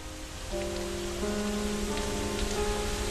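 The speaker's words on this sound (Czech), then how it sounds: "brzy ráno se najednou začal z jasného nebe snášet déšť" Steady rain hisses on surfaces with a constant wash of noise, while a low tonal hum enters partway through and sustains beneath it.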